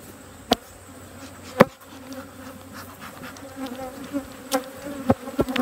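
Honeybees hum continuously around a hive being re-queened, a steady close buzz broken by several sharp knocks and clicks of handling.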